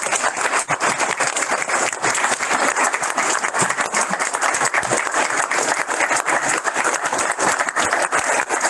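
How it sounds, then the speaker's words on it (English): A roomful of people at a county commission meeting claps for three seniors called up front. The applause is loud, close and crowded, with sharp individual claps crackling through a sustained roar. "let's give them a round of applause"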